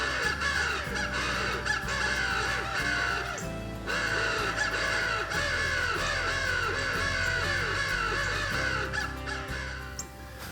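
An electronic crow caller mounted in a cedar tree, set among crow decoys on public hunting land, plays loud, steady, repeated caws with no voices over them.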